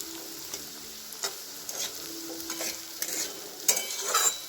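Poha masala stirred and fried in a pan, a soft steady sizzle broken by repeated scraping strokes of the spoon, close and fairly quiet with no voices.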